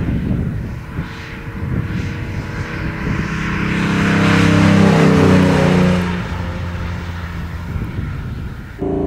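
A 1959 Mercedes 300 SL Roadster sports car engine revs up, climbing to a loud, roaring peak mid-way before easing back to a throaty idle, close and alone without talk.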